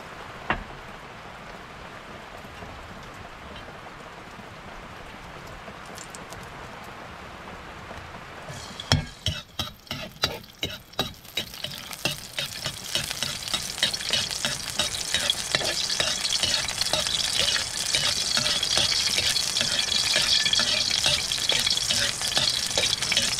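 Alugbati leaves hit hot cooking oil, a quiet hiss giving way to a loud, dense sizzle with stirring clatter that builds and holds steady, close and continuous with no voices.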